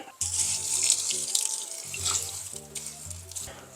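Water runs steadily from a tap into a container as more water is added to perlite for potting plants, a close, continuous splashing stream with a brief pause midway.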